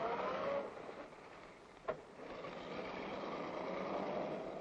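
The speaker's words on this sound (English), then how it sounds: "They're driving away." A 1930s car pulls away outdoors, a steady broad engine rumble that dips, then swells again as the vehicle moves off, with a brief thump partway through and no voices.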